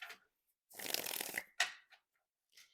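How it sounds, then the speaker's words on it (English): A regular-sized tarot card deck is shuffled by hand, with one long riffling burst followed by a few short, crisp card snaps in a quiet room. "You can hear the shuffle."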